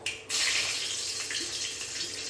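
A kitchen tap gushes on abruptly as cinnamon sticks are washed under it, then keeps running in a loud, close, steady stream with faint clinks and no voices.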